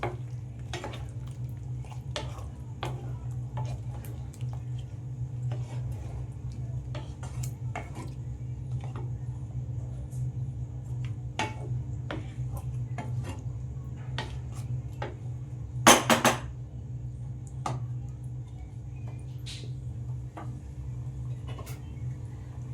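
Chicken stirred into a cup of sour yogurt for biryani, with scattered soft scrapes and clicks of a utensil against a pot over a steady low hum, plus a brief louder clatter near the end.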